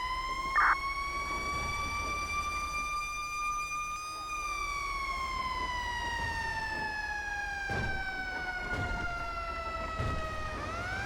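Wailing electronic siren from a fire department emergency vehicle on a code 3 response in a firefighting video game, a steady loud rising and falling tone over low engine rumble, with a few soft background knocks.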